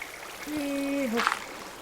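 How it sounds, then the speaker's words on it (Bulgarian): Flowing water in the Minecraft video game runs as a steady trickle, with a short tonal whistle passing over it before a brief splash near the end. "Сега тук като тече вода"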